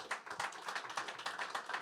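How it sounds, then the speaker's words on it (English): Round of applause from an audience at a luxury hospitality talk, steady scattered clapping throughout, moderately close and fairly quiet. "give these guys a round of applause"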